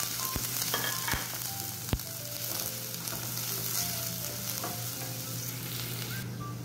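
Onions sauté in hot oil in a pot with a quiet, steady sizzle, broken by a few sharp spoon taps and stirring scrapes up close.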